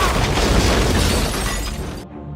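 A loud bomb blast on an upper floor in a mafia revenge film, a dense roaring burst with crackling debris that sustains for about two seconds before cutting off abruptly.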